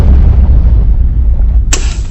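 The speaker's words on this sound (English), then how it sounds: "a short circuit and a tremendous explosion behind the switchboard" A tremendous explosion from a short circuit behind a warship's switchboard, the electrical ring main shorted: a dense, rumbling low boom sustained throughout, loud and close, with a sharp bright burst near the end.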